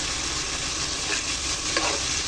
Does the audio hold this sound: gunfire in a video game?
no